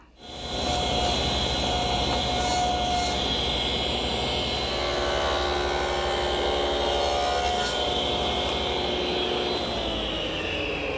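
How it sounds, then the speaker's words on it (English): A table saw cuts a rabbet into a 1/2-inch cherry board for the back of a jewelry case, a steady loud whine that holds for several seconds as the blade works through the wood, with no talk. "Here I'm marking a piece of 1/2-inch cherry that goes at the back of our jewelry case. And if you look at the prototype, you can see that it's rabbited"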